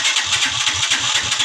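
A motorcycle engine being cranked in an attempt to start it, right after repair work on the magneto and spark plug, giving a steady, close, rhythmic low chugging pulse with no voices.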